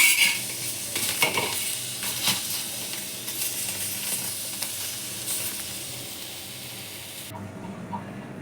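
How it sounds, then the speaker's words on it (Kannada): Tomatoes fry and get stirred in a pan, giving a steady close sizzle broken by scraping stir strokes for about seven seconds before the sound drops suddenly at the end. "ಟೊಮೆಟೊನೂ ಇದರಲ್ಲೇ ನಾನು ಫ್ರೈ ಮಾಡ್ಕೊತೀನಿ."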